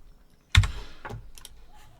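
A computer keyboard gets a short burst of typing. It opens with one sharp, loud keystroke, and a few lighter clicks follow, close and with no speech.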